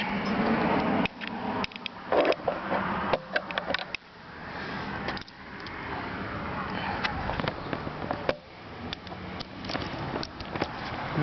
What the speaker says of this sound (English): Let me try my socket wrench.